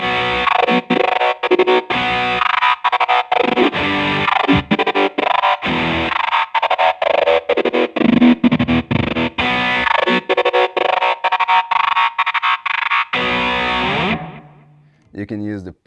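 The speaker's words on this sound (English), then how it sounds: "this is a cool preset where the filter is off when I'm off the pad, but when I touch the pad you can hear the filter." Electric guitar through a GTC Sound Innovations Revpad wireless filter effect, played as loud, distorted, choppy rhythmic chords with a sweeping filter, ending in a short burst of fast stuttering notes.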